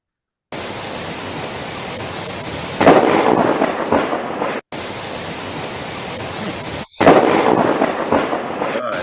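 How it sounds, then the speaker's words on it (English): A lightning strike hitting a bridge, played back from a recording, comes through as steady noisy rain and rumble that bursts twice into a loud, heavy crack of thunder and roar, each cut off abruptly. "this was the lightning strike that hit the bridge"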